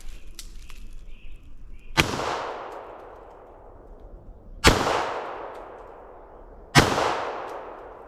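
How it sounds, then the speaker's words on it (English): Three loud, sharp 9mm pistol shots firing 47-grain bullets, spaced a couple of seconds apart, each a crisp crack followed by a ringing echo that fades outdoors, with no talking. "I'm going to hit it with a 9mm and see what it's got"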